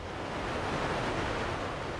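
Whitewater rapids on the Colorado River in the Grand Canyon, approaching a large drop: a steady, loud roar of rushing, churning water with wind buffeting the microphone throughout, no voices.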